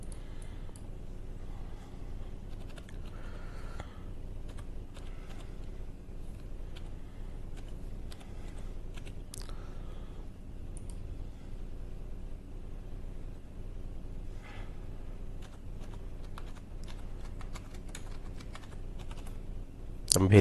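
Computer keyboard being typed on while an Aadhaar number is entered, with steady quick clicking keystrokes close by over a quiet background hum and no speech.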